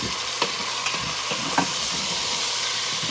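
Chicken pieces sizzle loudly in a hot pan with ginger slices, a steady frying hiss broken by a few soft stirring clicks and scrapes, with no voice heard.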